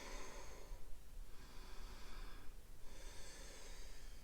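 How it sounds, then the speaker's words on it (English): Slow, deep breaths in and out during a tennis stretching routine, three soft, airy exhalations at a steady pace, close and quiet with no talking. "A few deep breaths in and out."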